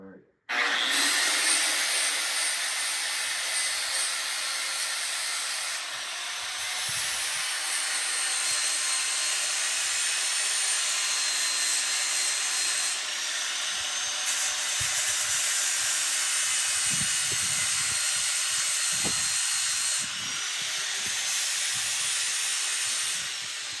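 Angle grinder working a steel horseshoe during shoeing, a loud continuous hissing grind that stays steady with brief dips throughout.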